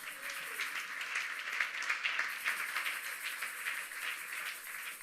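A church congregation at a Sunday thanksgiving service applauds after a Bible reading, with steady, moderately distant clapping that holds throughout, swelling slightly in the middle.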